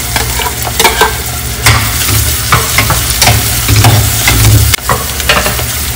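Garlic frying in a pan with onion and bell pepper for a lentil dish, a loud, steady close sizzle with a low rumble underneath and the repeated scrape of a spoon stirring, no voices.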